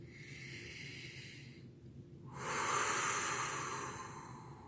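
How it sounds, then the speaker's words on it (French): A single slow, deep breath drawn in close to the microphone during a guided letting-go relaxation, rising to a soft airy rush and then easing off, with a quiet low background underneath. "on inspire profondément"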